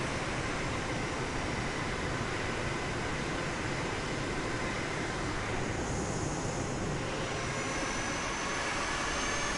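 A Boeing 737 jet engine in Microsoft Flight Simulator 2024 gives off a steady, dense roar that stays loud and unchanging throughout.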